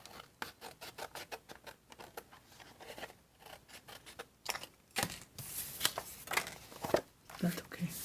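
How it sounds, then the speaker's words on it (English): Small novelty scissors snipping through paper in a series of crisp, irregular cuts at close range, with light rustling and handling of paper for a DIY notebook planner, no speech. "I got little kitty scissors from Dollar Tree"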